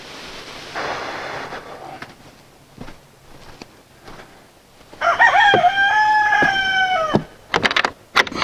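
Hens cluck softly around a backyard chicken coop, with scattered thumps and rustling. Midway a nearby rooster gives one loud, drawn-out crow, then more clucking and movement follow.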